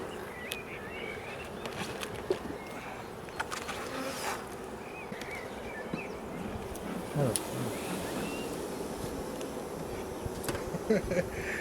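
Honeybees buzzing around a freshly opened hive during a spring inspection, a steady, dense hum with faint bursts and close passes, while a person talks intermittently over it.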